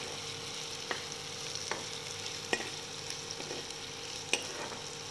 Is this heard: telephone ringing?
no